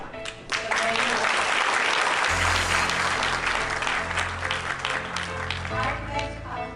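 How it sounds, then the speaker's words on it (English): Sustained audience applause at a ZEE Marathi USA community gathering, dense clapping that swells quickly and holds steady for several seconds, with a low musical hum entering midway. "big applause to all of you who made it here with that cause in mind"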